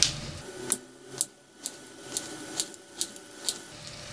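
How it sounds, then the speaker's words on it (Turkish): A knife chops quartered zucchini on a cutting board in a home kitchen, giving about nine crisp, evenly spaced taps that are close and clear, with no talking. "Bütün kabaklarımızı doğrayalım böyle."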